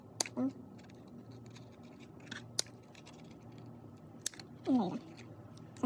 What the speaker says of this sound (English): next thing I do is just snip that